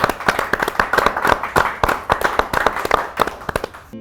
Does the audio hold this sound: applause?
yes